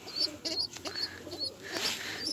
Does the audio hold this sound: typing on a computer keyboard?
no